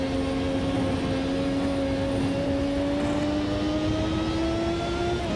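Williams Formula 1 car at full throttle in wet weather in the video game Automobilista 2: a sustained, high engine whine that climbs steadily in pitch as it accelerates, loud and continuous with no talking.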